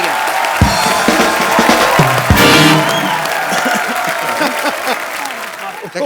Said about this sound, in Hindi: एक बार सलमान खान और अनुष्का शर्मा के लिए जोरदार तालियां।